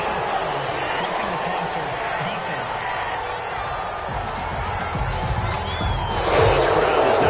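Stadium crowd at an American football game reacting to a roughing penalty call, a loud sustained roar and murmur of disapproval that swells toward the end, with a commentator talking over it.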